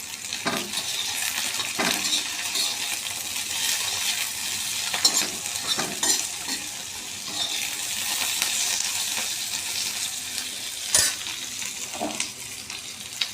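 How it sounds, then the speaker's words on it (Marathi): Constant dry sizzling of cumin and garlic roasting on a hot griddle, punctuated by occasional sharp metallic clicks and scrapes as the spices are moved around. "आता त्यात ही जिरं आणि लसूण पण भाजून जरासं घेते आणि तव्यातच करणार आहे."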